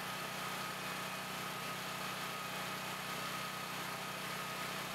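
A generator engine runs steadily under load during main coil testing, a constant close, even drone with a buzzing hum and no pauses or speech.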